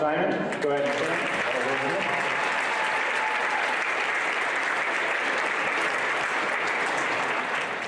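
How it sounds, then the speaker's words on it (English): Loud, steady applause from a school concert audience for two soloists, one on alto saxophone, filling the room at a middle school instrumental spring concert, with a few voices briefly audible at the start. "join me in giving a round of applause to two soloists, Don Taylor and Audrey Simon"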